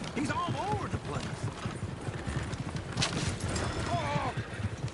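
Horses in Red Dead Redemption 2 clip-clop along with steady hoofbeats, and a whinny rises twice. Voices talk over the hooves.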